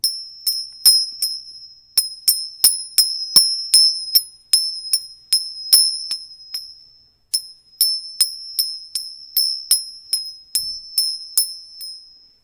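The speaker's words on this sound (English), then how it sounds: "Let me ring the bell, I forgot to." A small bell struck again and again to close an evening spiritual session at an ashram, its bright metallic rings coming in quick irregular bursts with a short pause midway, each strike decaying quickly, close and clear with no talking.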